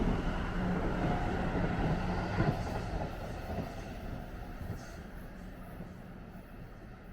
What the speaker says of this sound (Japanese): 通過列車何本か撮ってきましたので